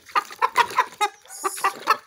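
A rooster about one metre tall clucks in a quick run of sharp, close calls, about eight short bursts in two seconds.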